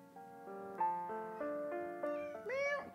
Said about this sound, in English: Meow, kitty.